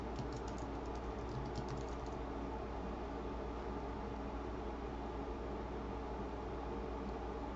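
Keystrokes on a computer keyboard, a brief burst of quick taps near the start, then fading under a steady broadband hiss for the rest of the clip.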